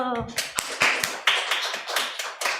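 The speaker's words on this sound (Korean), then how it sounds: "와, 박수." Congregation at a Seoul young adults' Sunday church service clapping briefly, a burst of sharp hand claps with a voice over it.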